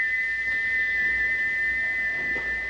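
A steam locomotive whistle, stuck open by a faulty whistle valve, holds one steady, piercing high tone without a break from start to finish over a faint background hiss.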